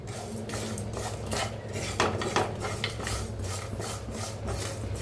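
Masala roasting in a little oil in a pan for misal pav, with steady scraping and stirring of a spatula against metal and occasional clinks over a soft continuous sizzle, close and fairly quiet.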